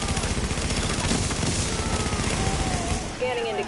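Rapid turret gunfire in a first-person shooter game, a dense, continuous barrage of shots and booms running loudly throughout, with game effects layered on top.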